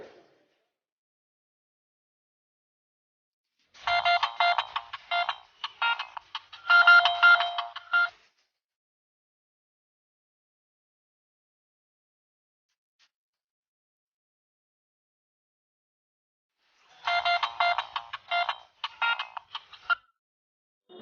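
A mobile phone ringtone from an incoming call in a comic Bangla drama scene: two separate bursts of a bright electronic ringing melody, each lasting about four seconds, with silence between them and no talk.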